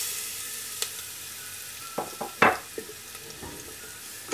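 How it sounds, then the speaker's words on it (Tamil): Crushed ginger and garlic sauté in a pan for chicken kulambu, a steady sizzle broken by a few sharp stirring scrapes and clicks partway through. "ஆட் பண்ணிவிட்டு இதை நல்லா வதக்கி வச்சிடலாம்."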